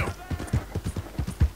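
Horse hooves thud in the Red Dead Redemption 2 video game, a close, quick and regular run of clip-clop beats from a horse moving at speed.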